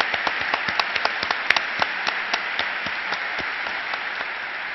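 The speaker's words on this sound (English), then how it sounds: "Please stand, David Phillips, to be applauded." A university forum audience at Columbia applauds David Phillips as he stands, a steady, dense wash of clapping with sharper individual claps popping out, even and sustained throughout.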